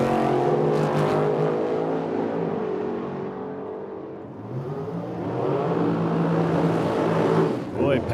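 At a drag strip, a red and orange dragster and a roadster launch and race down the track together, their engines loud and roaring with rising revs that sweep upward, while an announcer talks over the noise.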